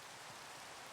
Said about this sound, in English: The rain. This is nice.